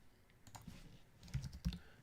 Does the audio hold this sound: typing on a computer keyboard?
yes